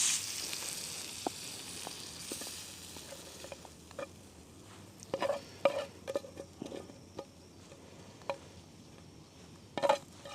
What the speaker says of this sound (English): I'm going to put the veg in the frying pan. Just lightly fry that off.